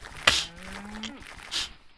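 A cow in the Minecraft video game gives a single short, clear moo after a brief click, close and alone.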